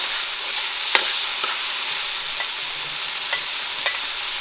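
Tomato and onion sizzle in hot oil for a Caribbean crab curry, with a steady, loud frying hiss and a few sharp spoon scrapes and clinks as they are stirred, close up and without talk.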